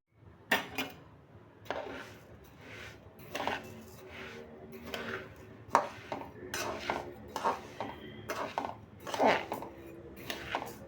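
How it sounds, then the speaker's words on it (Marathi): Rice grains pour into a hot kadhai and are roasted, with a close series of scraping, clinking spatula strokes against the metal pan in an irregular rhythm, faint background between strokes. "आता गॅसवर मी कढई गरम करण्यासाठी ठेवलेली आहे आता आपण याच्यामध्ये तांदूळ टाकूयात"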